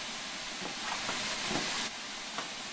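A Stanier 8F steam locomotive in the Train Sim World 5 video game gives off a steady, loud hiss of escaping steam with faint rhythmic pulses and no talking.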